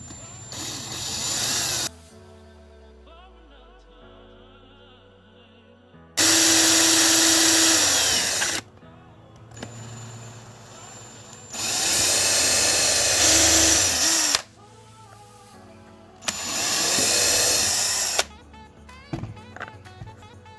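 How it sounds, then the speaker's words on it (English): A power drill whines loudly in three sustained bursts, drilling a hole in a piece of wood, separated by quieter pauses with faint handling noises. "Now I'm just drilling the hole for the piece of string to come through."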